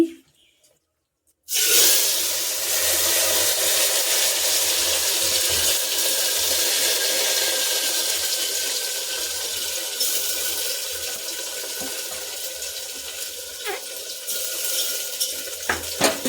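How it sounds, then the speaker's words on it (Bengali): Water pours steadily from a tap onto rice and lentils in a cooking pot, a loud continuous rush that starts abruptly after a short quiet moment and runs on, with faint clinks near the end. "তারপরে জল ঢেলে দিলাম"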